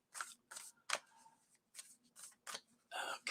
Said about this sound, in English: while I'm shuffling this deck